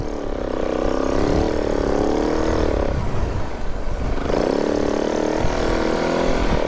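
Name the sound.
motorcycle engine lugging while warming up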